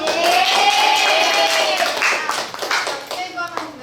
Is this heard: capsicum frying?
no